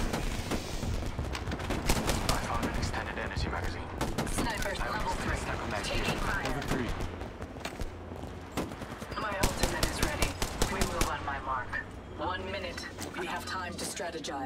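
Rapid bursts of automatic gunfire crackle almost continuously through a match of the mobile shooter Apex Legends Mobile, with sharp repeated shots layered under spoken game callouts.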